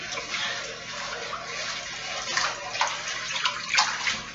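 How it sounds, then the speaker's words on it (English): A chest binder being hand washed in soapy water, with close sloshing, splashing and swishing as the fabric is moved around, rising in bursts toward the end. "And now you just like hand wash it. Simulate a washing machine. Move it around."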